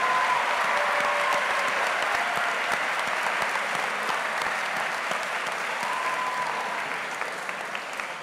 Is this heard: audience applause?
yes